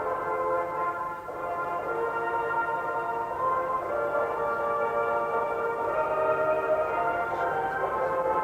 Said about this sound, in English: that's what the crowd wanted to hear, the French national anthem